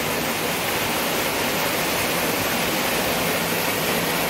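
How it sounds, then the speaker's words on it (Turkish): Waterfall near a house in the Dərə neighbourhood of Kəlbəcər, a dense, continuous roar of rushing water, loud and close, steady throughout without talk. "Şelalenin sesi adama lay lay çalıyor."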